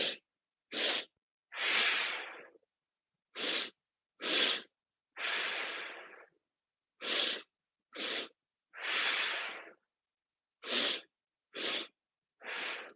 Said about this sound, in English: So that's inhale, inhale, exhale.